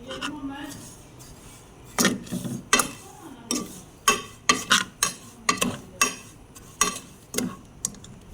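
Vermicelli roasting in a pot of hot desi ghee, stirred with a utensil that gives off a steady string of sharp scrapes and clicks over a soft sizzle, growing busier after the first two seconds.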